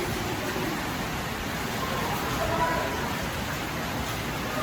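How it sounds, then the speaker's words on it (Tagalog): Heavy rain pours down in a dense, constant roar, steady throughout with no pauses. "Grabe, lakas ng ulan."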